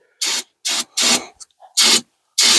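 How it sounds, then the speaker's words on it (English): An aerosol spray can being sprayed onto a Ford Flathead V8 8BA engine during valve seal work: five short, loud hissing bursts, each under half a second, separated by brief silences, with a small clunk in the middle. "Can I spray?"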